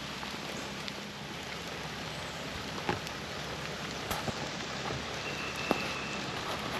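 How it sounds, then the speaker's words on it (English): Steady rain pours down over an RV campsite at O'Leno State Park, a dense continuous patter with a few louder drops hitting nearby surfaces, no voices. "It's raining a bit, but we knew it was going to rain."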